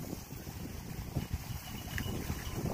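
Strong wind buffets the microphone at a waterfront, a steady low rumble and gusty roar with no voices, outdoors by the water where jet skis practice.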